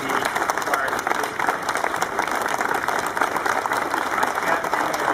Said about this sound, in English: I want to give you applause